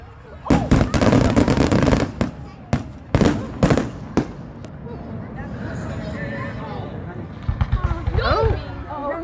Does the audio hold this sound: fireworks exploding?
yes